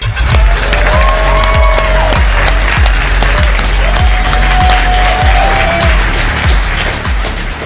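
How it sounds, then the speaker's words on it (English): Applause welcoming a speaker onto stage at a live stock market event, loud dense clapping with a regular thumping beat underneath and sustained tonal music-like lines, filling the whole stretch with no talk. "please give a big round of applause for Swaroon Sridhar"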